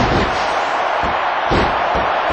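A wrestling arena crowd at a tag-team match roars steadily throughout, a dense, loud wall of cheering and shouting with no pauses.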